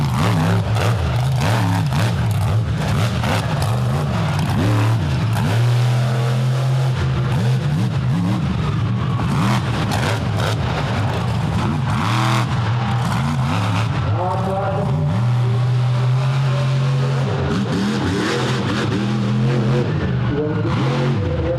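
Monster truck engines rev and roar loudly through a freestyle run at a Charlotte, North Carolina arena event, rising and falling repeatedly with heavy throttle bursts, as an announcer talks over the noise.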